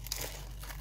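A plastic bag crinkles briefly and close up as prayer beads are taken out of it, a soft steady rustle over a low background hum.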